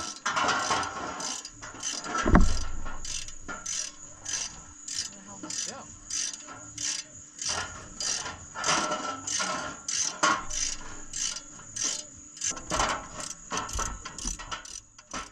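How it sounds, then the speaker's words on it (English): Brake caliper bolts on a Nissan are run down into the mounting bracket with a ratcheting hand tool, giving rapid, regular metallic clicks in bursts, close up, with a couple of louder clunks and some faint background noise. "What I'm doing is pre-tightening these bolts on the caliper to the mounting bracket."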